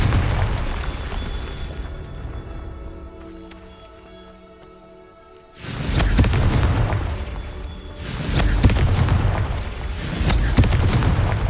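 In the Hogwarts Legacy video game, a Confringo spell explodes with a sudden heavy boom after a quieter stretch, followed by a second rumbling burst and a sustained roar of debris and ambience.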